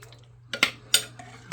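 Crockpot beef and broccoli being served onto a plate, a few close clinks of a utensil against dishware spaced about half a second apart over a low steady hum, with no voices.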